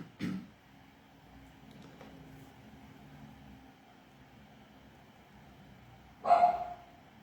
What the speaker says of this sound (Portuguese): Desculpa o barulhinho dos cachorrinhos aqui